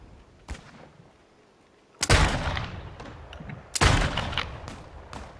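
Two heavy gunshots in the Call of Duty video game, each a sharp loud blast followed by a long rumbling tail, preceded by a fainter pop early on, with no talk over them.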